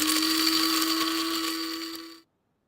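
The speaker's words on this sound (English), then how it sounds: "And that's actually a coffee grinder." A coffee grinder runs with a steady high whine and gritty grinding, loud and close, then spins down and cuts off abruptly into silence.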